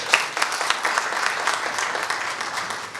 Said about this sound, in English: That deserves a big clap.